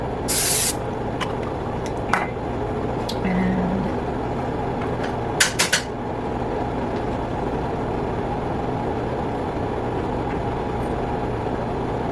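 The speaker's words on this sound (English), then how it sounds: "I just use the olive oil spray." A continuous hissing spray from an olive oil spray can runs under a low rumbling background, with a few sharp clicks and taps partway through.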